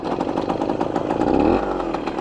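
A 1970 Yamaha AT1 125 motorcycle sitting in neutral with no choke, its engine running with a rapid, loud, close putter that rises briefly in a revving swell before settling back.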